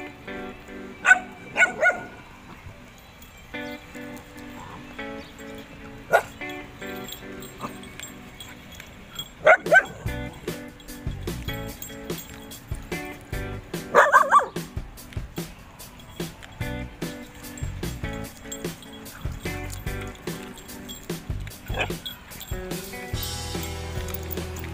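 A pack of dogs barks and yips in scattered bursts, some sharp and close, others fainter, over a low steady background hum with occasional other noises.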